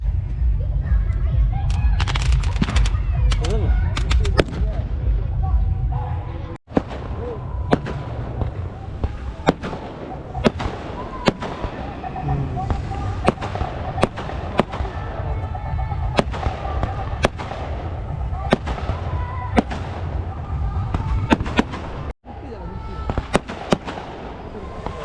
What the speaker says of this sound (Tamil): படுகல வெடிக்கிறது